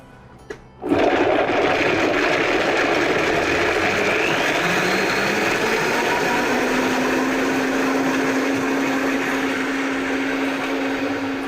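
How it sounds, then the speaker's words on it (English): A blender processing a ginger miso sauce starts with a sharp burst, then runs as a loud, steady high-pitched whir that holds for about ten seconds with a slight rise in pitch, alone without talk. "we'll run the blender for about a minute just to be able to process everything and make it really smooth"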